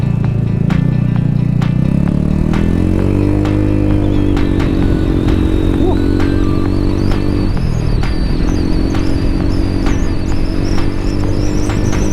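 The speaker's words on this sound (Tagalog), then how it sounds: "nakakabit na rin pala yung ating maingay-ingay na pipe" A Yamaha XMAX 300 scooter fitted with a loud aftermarket exhaust pipe drones steadily close by, its engine note rising and dipping with the throttle throughout, with no talk.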